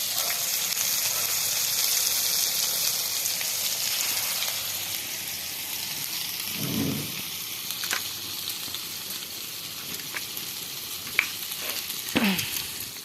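Fritters of ground shrimp shells mixed with green chilli, onion, garlic and a little gram flour fry in a pan, a loud steady sizzle that later thins into sputtering pops and light utensil clinks.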